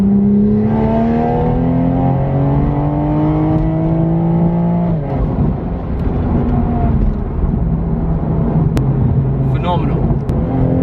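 A 550 BHP Toyota Supra accelerates hard in fourth gear, its engine howl rising in pitch for several seconds before a shift drops it, then continuing more quietly, heard from inside the car with people talking.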